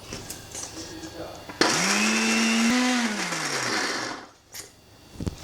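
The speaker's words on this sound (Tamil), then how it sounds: "பொடியை போட்டு சேர்த்து கிரைண்ட் பண்ணிடலாம்." A mixer grinder whirs loudly for about two and a half seconds, grinding dried amla (gooseberry) into powder, its pitch shifting as it runs, then stops, leaving a quiet kitchen with faint sounds.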